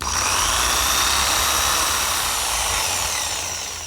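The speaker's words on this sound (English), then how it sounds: "I want to elongate the hole using my jigsaw" A jigsaw buzzes steadily and loudly up close as it elongates biscuit holes in wood for a writing desk, a continuous high whine that tapers slightly at the end.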